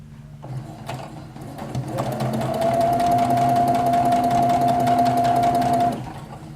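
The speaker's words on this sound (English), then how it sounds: "I have to wind my bobbin though. It's pretty easy on this machine." Sewing machine motor whirring steadily while winding a bobbin, a sustained mechanical hum with a high whine lasting several seconds before stopping.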